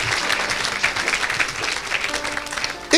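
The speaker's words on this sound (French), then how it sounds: "Acclamez pour la grâce." A church congregation applauds at a gospel service, with dense and loud clapping that holds steady for a few seconds.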